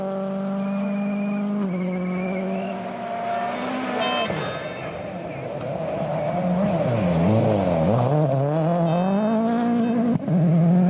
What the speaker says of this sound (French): Le Suédois au volant d'une Ford Fiesta.